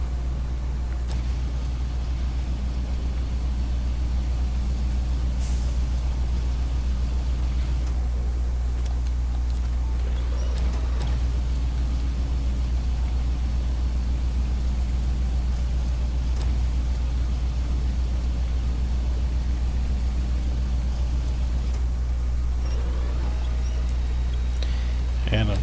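Truck engine in the off-road driving game SnowRunner running at a steady low drone throughout, with small clicks and clunks on top and no voices.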